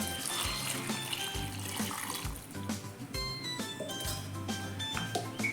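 Water pours into a mixer jar of grated coconut, a soft trickling, splashing flow with low gurgles and light clinks, close and fairly quiet, with no talk.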